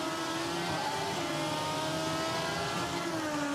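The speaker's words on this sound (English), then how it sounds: "Look how quick she goes back to full throttle." A 2009 IndyCar at Mid-Ohio revving back up to full throttle, a steady high-pitched engine whine rising slightly, heard from the car, faint and continuous.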